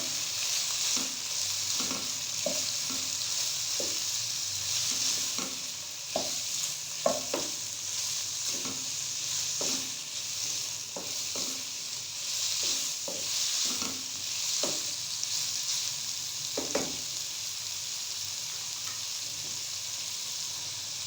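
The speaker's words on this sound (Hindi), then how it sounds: "हमने गाजर और चिकन को एक साथ 1 मिनट के लिए फ्राई कर लिया।" Carrots and chicken frying together in a pan for vegetable fried rice: a constant hissing sizzle close by, punctuated by regular scraping stirs roughly every second.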